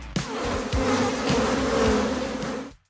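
Honeybees buzz steadily and loudly in a continuous close drone for nearly three seconds before cutting off, with no voices present.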